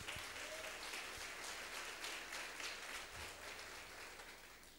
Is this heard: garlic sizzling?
no